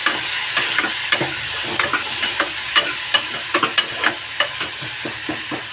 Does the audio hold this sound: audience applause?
no